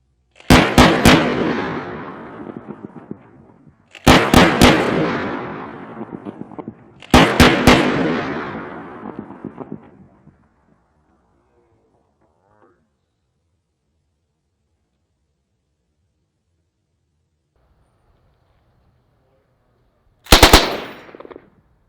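Four bursts of 7.62 drone rounds firing outdoors, each a rapid cluster of sharp loud cracks followed by a long rolling echo, the first three spaced a few seconds apart and the last after a long quiet gap.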